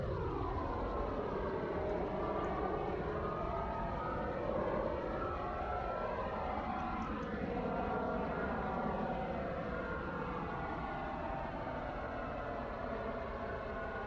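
Steady, continuous drone of Airbus A340 airliner engines in level flight in Roblox Aeronautica, a loud, unbroken roar with slowly shifting whining tones throughout.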